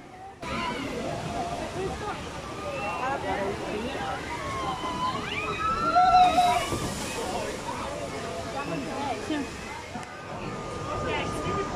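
A boat ride at Leolandia amusement park in Italy drops from a height into water, giving a continuous rushing slosh and splash that swells midway. Voices and excited riders are audible under the water noise.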